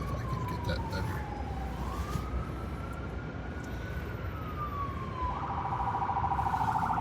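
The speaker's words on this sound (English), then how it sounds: "Nice little ambulance." An ambulance siren passes on a rainy street in Manila, its wailing tone sliding slowly up and down before switching to a rapid warbling yelp, heard from a moderate distance over steady rain and traffic hiss.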